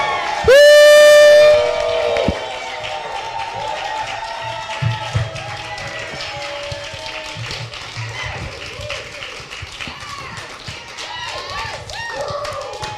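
A studio audience claps and cheers as the hosts of a news show are introduced, starting after a loud musical sting and continuing as scattered applause mixed with crowd noise and talking.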